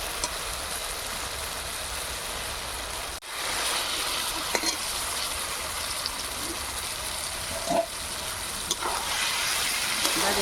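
Duck meat tipped into spice paste frying in oil, a steady loud sizzle with stirring scrapes and a brief drop in the hiss partway through.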